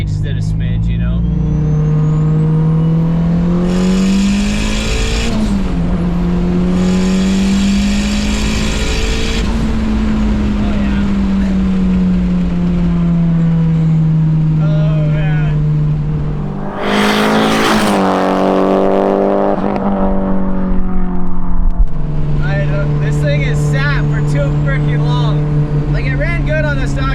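Mitsubishi Evo wagon engine idling and revving in long sustained pulls, loud and close with a buzzy go-kart-like tone, rising and settling between revs while someone talks over it.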